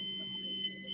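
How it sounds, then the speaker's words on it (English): A fire alarm sounds indoors, a steady high-pitched electronic tone over a low hum, continuous and fairly loud throughout the brief moment. "Fire alarm going off."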